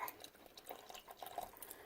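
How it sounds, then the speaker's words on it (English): Water streams faintly into a pot, a soft, uneven splashing trickle close by, with no talking. "A bit more water."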